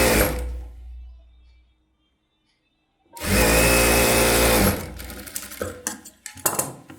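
A sewing machine runs a straight stitch along a blouse seam: after a quiet pause, its motor whirs in one loud, steady burst of about a second and a half, followed by lighter clicks and handling clatter.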